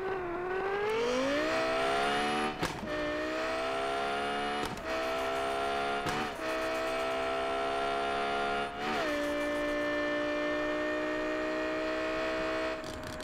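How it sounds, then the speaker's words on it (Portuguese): A loud Lamborghini engine in the game Car Parking Multiplayer accelerates continuously, its pitch rising through several gear shifts marked by brief dips, sustained and close for over ten seconds. "É, pessoal, é um som de Lamborghini, tá? Vamos acelerar."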